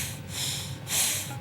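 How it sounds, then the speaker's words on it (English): Forceful breath during yoga breathing practice: close, airy rushes of air through the nose, with a stronger exhale near the end, no voice. "You're going to exhale and inhale and exhale loudly."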